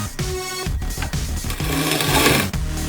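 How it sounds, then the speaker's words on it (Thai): A hand-cranked grinder crushes coffee beans, giving a steady, close grinding rattle with slight pulses as the handle turns and no speech over it. "เมล็ดกาแฟที่เราจะบดก็แค่หมุนที่ด้าน ตรงนี้"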